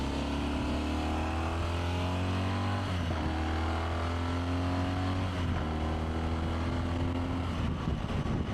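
Steady, loud road and wind roar from a motorcycle cruising at motorway speed, a constant broadband rush with a droning engine note and occasional passing swells.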